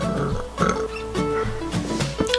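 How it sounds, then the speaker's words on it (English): A deep, croaking human burp stretches and gurgles in several pulses over about two seconds, loud and close, with no talking around it. "Burp."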